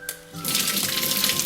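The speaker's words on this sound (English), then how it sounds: "After boiling, drain out the water." Water is drained from boiled karela (bitter gourd) through a sieve, a brief clink followed by a loud, steady rush and splash of pouring water that lasts to the end.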